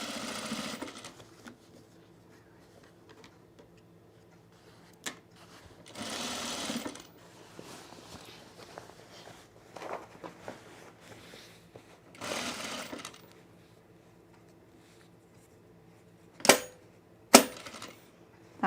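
A sewing machine stitches belt loops onto men's cargo shorts. Several short, quiet whirring runs of stitching are separated by pauses, with a couple of sharp clicks near the end.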